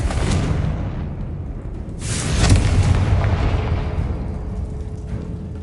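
Confringo fire spell explosions in Hogwarts Legacy: a loud, close blast with a rumbling boom near the start, a second heavy burst about two seconds in, and a sustained roaring tail that fades slowly.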